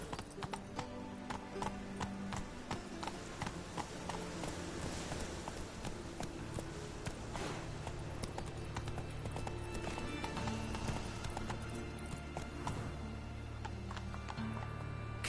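Roach the horse galloping in The Witcher 3, rapid rhythmic hoof clip-clop pounding steadily throughout with a whinny and game ambience layered in, loud and close.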